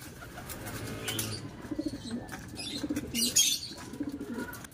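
Soft, rhythmic pigeon cooing repeats close by in a pigeon loft, with a brief flutter of wings and faint chirps in the background.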